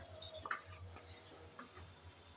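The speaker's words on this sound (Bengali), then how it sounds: "আমি এখন নেড়েচেড়ে ভালোভাবে কষিয়ে নিচ্ছি, না হলে কিন্তু নিচে লেগে যাওয়ার সম্ভাবনা থাকতে পারে।" Spices being stirred and fried in a pan while cooking a kochu loti (taro stolon) dish, with soft scraping strokes over a low steady sizzle, close and fairly quiet.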